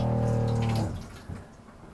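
Carrots rinsed under a running kitchen tap aboard the boat Volare, a brief faint splash of flowing water that fades after about a second.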